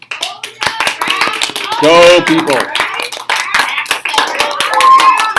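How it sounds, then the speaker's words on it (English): A classroom gives a round of applause, many hands clapping in quick irregular bursts, with children's voices calling out and shouting over the clapping. "Could I have a round of applause for the human population, please?"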